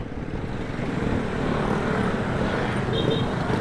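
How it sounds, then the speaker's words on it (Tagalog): Road traffic on the way to Monte Maria in Batangas rumbles from close by, a steady engine drone of cars and motorcycles with no break throughout. "Grabe traffic dito."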